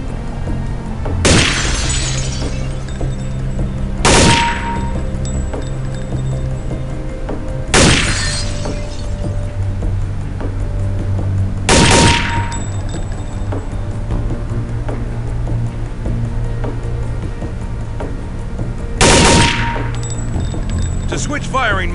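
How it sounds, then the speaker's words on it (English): Gunfire bursts at training targets in Counter-Strike: Condition Zero, five loud, sharp bursts spaced a few seconds apart over a steady low background hum. "use short controlled bursts to ensure accurate targeting"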